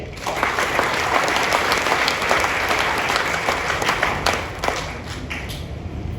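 An audience bursts into steady, dense applause, loud and continuous throughout before thinning slightly toward the end, with no one speaking over it.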